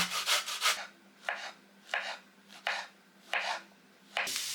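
Onion, carrot and mushrooms cut on a board with a knife, about six separate scraping chops at an uneven pace, close and fairly clear, no speech.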